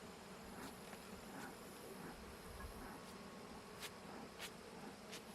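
Honey bees buzz steadily close by at a natural beekeeping Layens hive being opened for winterizing, with a continuous droning hum and brief louder passes as individual bees fly near.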